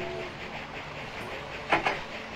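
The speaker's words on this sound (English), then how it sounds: "Here comes the grain train now." A grain train rolls along in Railroad Tycoon II, a quiet rumbling rail clatter with two short, louder clacking bursts near the end.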